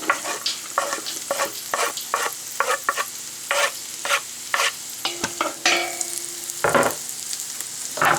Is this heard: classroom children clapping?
no